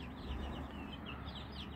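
Chickens of a local Arab breed in a poultry shed, soft scattered clucks and calls heard faintly at a distance over a steady low background hum.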